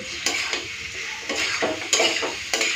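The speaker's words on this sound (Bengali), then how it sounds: "এখন 5 মিনিট মতো কষে নেবো, আরো ভালো মতো সেদ্ধ হয়ে যাবে।" Cubed potato and tender young kohlrabi sautéed in a frying pan: a spatula scrapes and turns the pieces in repeated strokes over a continuous sizzle, close and fairly loud.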